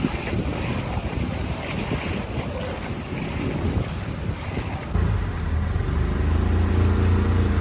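A boat motors through the Poovar backwaters in Trivandrum, Kerala, heading into mangrove forest at low tide, with a steady engine drone, water wash and wind buffeting the microphone, and the engine note rising midway.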